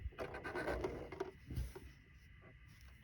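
A Juki MC 1500 coverstitch machine, threaded with three needles and a looper, runs close by in short bursts of busy mechanical chatter and rattling that ease off into a quieter hum.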